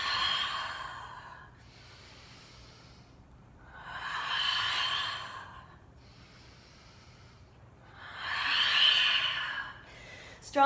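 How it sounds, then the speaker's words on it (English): Three strong, forceful exhales during a yoga flow, each a broad breathy rush of air lasting about a second and a half, spaced evenly with quiet pauses between, close and fairly loud. "Strong, strong exhales."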